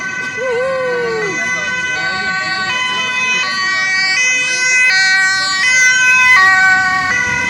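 A police siren wails continuously with a stepped, repeating tone on an Amsterdam street, loud and fairly close, with some faint talk underneath.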